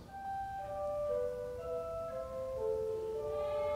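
Wide flue pipes on a church pipe organ (Opus 414) sound sustained, smooth tones, held notes overlapping and stepping through a slow sequence at moderate, even loudness in a reverberant room.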